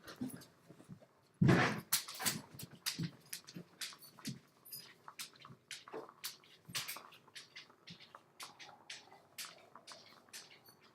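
Dogs being let out of a house, with scattered paw patter, jingling and sharp clicks, brief whimpers and a loud bump near the start, busy and close.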